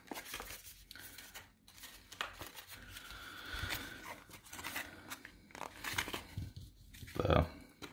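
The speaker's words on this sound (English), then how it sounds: "Cut these out of the boxes while we got a chance." Cardboard boxes being cut with scissors to free trading cards from their packaging, giving crinkling, tearing and snipping sounds that run throughout and swell to a louder crunch near the end, with people talking intermittently.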